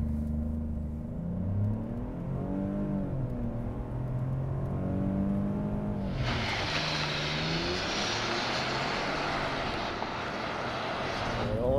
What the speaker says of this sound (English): Bronco Sport Heritage without launch control.